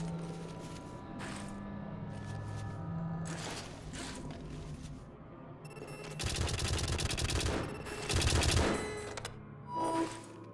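Automated turrets in the video game White Knuckle open fire, short bursts of rapid mechanical gunfire that swell into loud sustained rattling volleys, with a machine hum between the bursts.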